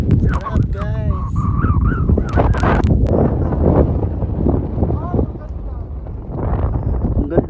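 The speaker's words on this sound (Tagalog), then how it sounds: "ang lakas ng hangin" Strong wind buffets and rumbles against the microphone on a mountain summit in Nueva Ecija, Philippines, while people talk and exclaim loudly, the gusts swelling and fading throughout.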